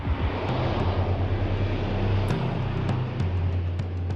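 Steady low drone of an official airplane arriving, a continuous engine rumble with a hum that holds throughout and a few faint clicks on top, with no talking.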